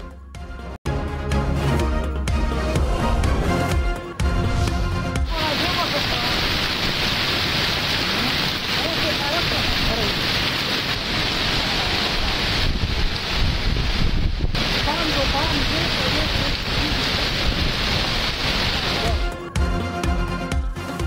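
Steady rain falls with gusting wind in Mardan and Swabi, a dense continuous hiss with buffeting wind noise on the microphone, loud and unbroken for most of the stretch.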